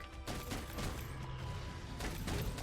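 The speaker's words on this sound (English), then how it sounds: "We can just come up and shoot him point blank." Rapid gunfire crackles in Monster Hunter World, a dense run of shots fired point blank at a monster, mixed with game effects and rumble throughout.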